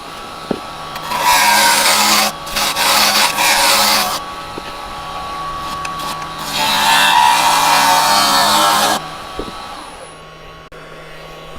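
A wooden bowl spins on a lathe as a carbide chisel cuts it, making two long, loud hissing cutting passes with a motor hum running steadily underneath and a short pause between them.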